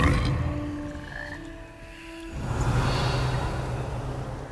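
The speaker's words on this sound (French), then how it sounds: "C'est quoi cette espèce de crapaud?" A toad croaks in Hogwarts Legacy, a fantasy video game: a loud, rasping, close croak with a tonal drone, followed by a rougher, noisier croaking stretch. No one speaks.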